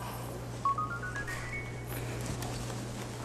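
An incoming call rings on a telephone in a home as a short run of stepped electronic tones climbing in pitch, moderately loud over steady low room hum.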